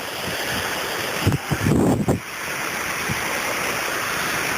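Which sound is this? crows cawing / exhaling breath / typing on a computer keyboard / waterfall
waterfall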